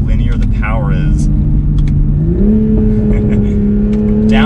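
Engine note of a 2021 Toyota GR Supra with the 3.0 inline-six under acceleration, a steady droning hum that steps up in pitch partway through as revs climb, heard from inside the cabin with someone talking over it.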